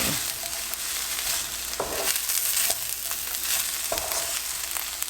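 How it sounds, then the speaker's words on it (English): Vegetables are stir-fried in a pan over medium heat with a continuous bright sizzle, and scraping strokes of a utensil come every couple of seconds. "I'm going to increase the heat again to a medium heat and start stir frying."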